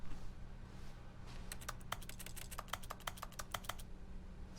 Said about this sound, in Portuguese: Barulho de teclado toda vez que eu clico, tá ligado? No jogo.